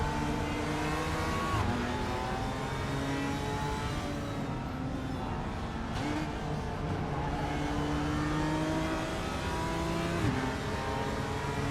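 A McLaren race car in RaceRoom, its engine droning steadily with rising and falling revs through gear changes, and other cars running close by. The engine noise is continuous for the whole stretch.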